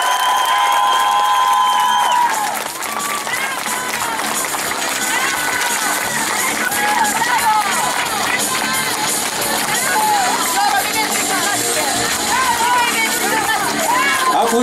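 A crowd applauds the class winner at an award ceremony for the Shipka 2013 car race near Kazanlak. Loud, sustained clapping and some cheering continue for the whole stretch, mixed with background chatter and occasional shouts.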